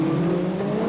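Rallycross cars race and slide through a corner at a 1994 European Championship round in Norway, their engines a steady loud drone for a brief moment.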